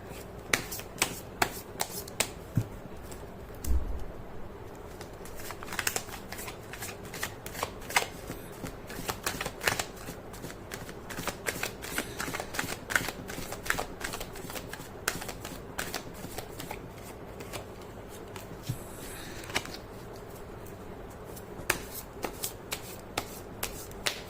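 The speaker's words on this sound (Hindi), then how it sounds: "मैं कर देती हूँ कार्ड की शफलिंग।" Tarot cards are shuffled up close for the whole stretch, a quiet, steady run of soft riffling flicks and taps with no talk over them.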